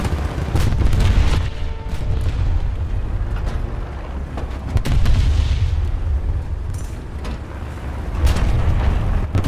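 Heavy tank shell explosions in a tank battle video game, with a 152 mm gun, come as repeated booming blasts and rumbling gunfire throughout, loud and close with dense low-end rumble.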